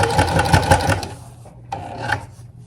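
A sewing machine stitching a seam shut on fabric, a fast rattling run for about a second, then quieter, followed by a short second burst of stitching.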